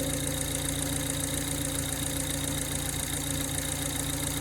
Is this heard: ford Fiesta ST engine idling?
yes